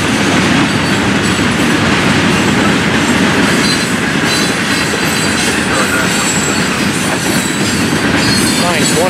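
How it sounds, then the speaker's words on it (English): A long freight rock train rumbles steadily past nearby, wheels clattering and squealing on the rails in a continuous loud roar. "the rock train is a long one this morning"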